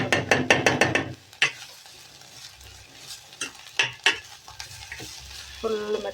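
Grated carrots frying in ghee in a pan, stirred with a spoon: rhythmic scraping strokes over a soft sizzle, close and fairly loud, with a short pause before the stirring resumes.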